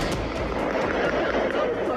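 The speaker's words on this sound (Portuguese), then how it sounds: "O som dos tiros despertou mais uma vez milhares de moradores do Complexo da Penha" Rapid gunshots crack repeatedly over a dense, noisy background during a police operation in Rio de Janeiro's Complexo da Penha, sharp bursts spaced roughly evenly across the clip.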